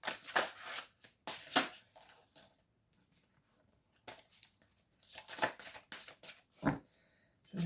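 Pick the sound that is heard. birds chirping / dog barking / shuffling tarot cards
shuffling tarot cards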